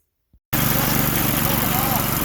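A Honda GX200 engine on a mini go kart starts up after a brief silence and runs in a steady, loud putter with its fuel shut off. It is close and alone.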